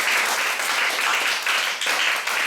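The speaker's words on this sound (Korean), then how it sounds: "박수 한번 쳐줘요." Congregation applause at a Wednesday church worship service, a dense, steady patter of many hands clapping at close range that holds for the whole stretch with only brief dips, with no voices over it.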